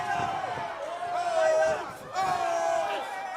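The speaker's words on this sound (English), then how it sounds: "you can hear it, the crowd taunting him on are the snipers" Crowd at a TCL team boxing match between the Houston Hitmen and San Antonio Snipers, jeering and taunting a fighter; a dense, continuous roar of voices with shouts rising and falling throughout.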